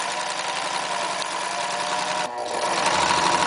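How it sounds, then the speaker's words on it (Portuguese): A sewing machine stitching eyelet lace trim onto a fabric edge, a steady loud mechanical whirr with rapid needle ticking that runs without a break, with a brief dip near the end. "Vamos então para a máquina de costura, aplicar esse bordado inglês na nossa bordinha"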